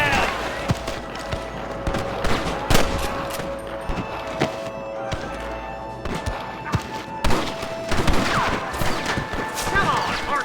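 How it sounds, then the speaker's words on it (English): Red Dead Redemption gameplay on PC with a steady exchange of gunshots, loud close reports and sharp cracks of varying distance, mixed with game voices talking over the firefight. "Good shooting, boy!"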